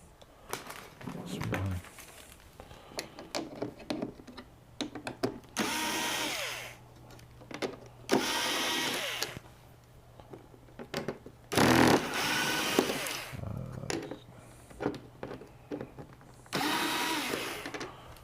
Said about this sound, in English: So I'm going to take those screws off.